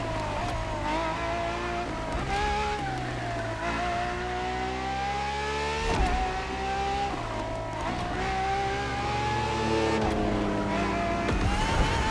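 Ferrari FXXK supercar engine in The Crew Motorfest, revving hard through repeated upshifts with rising harmonic sweeps and brief tire squeal, loud and continuous with no talk.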